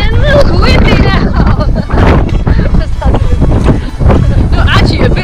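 Strong gusting wind buffets the microphone on a coastal walk between Faversham and Whitstable, loud and rumbling throughout, with a voice talking underneath.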